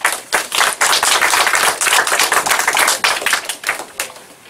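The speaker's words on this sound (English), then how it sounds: "Another round of applause, please." Audience applause at a workshop, close and loud, with distinct individual claps in uneven waves that taper off toward the end.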